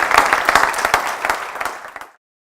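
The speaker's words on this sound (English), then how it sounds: "let's give you a round of applause" An audience at a mentor masterclass Q&A applauds, a brief, dense patter of many hands clapping close by for about two seconds before it stops abruptly.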